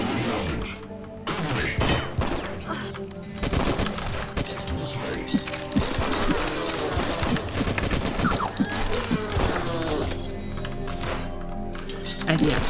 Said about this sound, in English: now we're gonna get SMG, and as you see, it also has dual wield